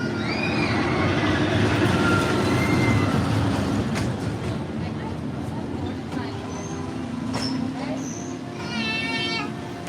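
A train passes at Disneyland Paris with a steady rumbling roll and screeching wheel squeals near the end, a broad continuous wash at moderate level under a voice.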